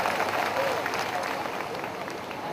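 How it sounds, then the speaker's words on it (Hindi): At a Pasmanda Muslim community officials' conference, a crowd applauds to welcome a guest on stage, a continuous, moderately loud wash of clapping with crowd murmur beneath. "जबरदस्त जोरदार तालियों से इनका स्वागत होना चाहिए"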